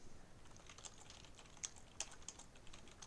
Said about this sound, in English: apologize for the typing noises while I do that